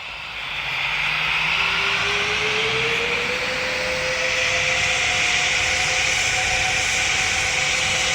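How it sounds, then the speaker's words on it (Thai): Airplane engine in the Roblox game Pilot Training Flight Simulator, a steady loud jet-like roar and whine that holds constant for the whole stretch, with a slowly rising tone, no talking. "นี่คือเครื่องบินที่เราเสกนะครับ"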